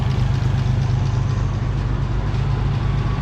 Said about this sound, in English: She's idling nice now.